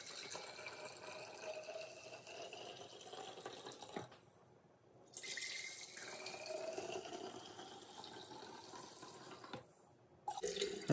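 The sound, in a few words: pouring turkey carcass stock into jars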